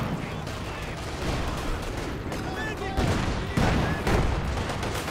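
Stormtroopers' G43 rifles crack in the Company of Heroes 2 video game amid a chaotic battle, scattered sharp shots and heavier booms layered over rumbling combat noise, with a few whistling tones and brief talk in the mix.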